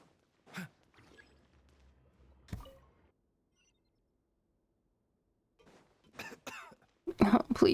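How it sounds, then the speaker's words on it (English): A few separate coughs and throat-clearing sounds from a voice in a Genshin Impact game scene, scattered across quiet gaps and ending in a louder, closer cluster of coughing. "Oh, please don't cough."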